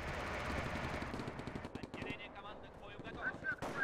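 A squad fires in a WWII-era video game, with rapid machine-gun bursts and gunshots crackling densely throughout, loud and close, with occasional higher-pitched effects near the end.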